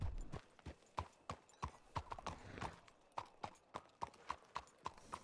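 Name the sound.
horse hooves clip-clopping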